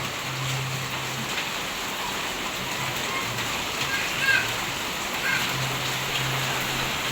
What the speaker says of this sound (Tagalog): Basa po't gawa po ng ulan.